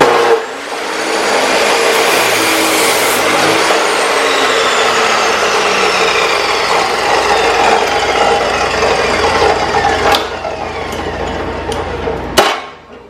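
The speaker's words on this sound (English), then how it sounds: "And then we're going to cut it." A fuel line for a JDM Toyota MK4 Supra fuel system being cut, a steady grinding, rasping cut running about ten seconds with a couple of sharp clacks near the end, loud and close, no talk.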